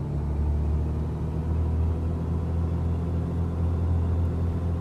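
Twin piston engines of a Beechcraft Baron 58 in a flight simulator run up to 1700 RPM, a steady low droning rumble held at constant pitch, loud and continuous with no talk.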